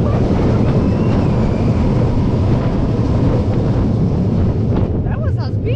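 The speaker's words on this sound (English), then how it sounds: "That's what's really fun with roller coasters that has these long trains." A long 750-meter roller coaster train at Bonbon Land rumbles loudly and continuously along the track from the back row, with heavy wind noise throughout and a few faint squeals near the end.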